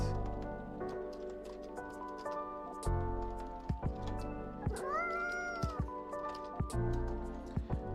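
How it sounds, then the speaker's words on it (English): A cat meows repeatedly, several drawn-out, wavering caterwauls and shorter mews at close range, against a faint hum of background noise. "it is obviously meowing"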